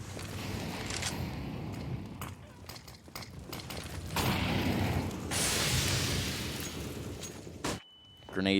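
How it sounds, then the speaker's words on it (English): Grenades burst on the Banana area of the Inferno map in CS:GO, a series of loud booms and crackling blasts with some overlapping, and a match caster talks throughout. "Grenades being exchanged on Banana."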